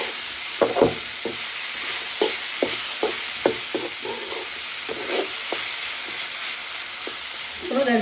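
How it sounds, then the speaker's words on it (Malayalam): Onion and tomato sautéing in a pan, with a steady bright sizzle under irregular stirring clicks and scrapes of a spoon against the pan, close and continuous, no talking. "സവോളയും തക്കാളിയും ഒക്കെ ഒന്ന് പെരട്ടിയിട്ടു."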